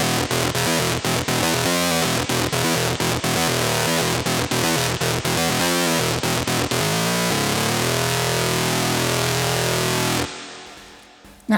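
A Korg MS-20 synth plays a heavy, buzzing sawtooth power chord through external distortion, a dense rhythmic chugging riff that gives way to a sustained growling tone before cutting off abruptly, loud and close.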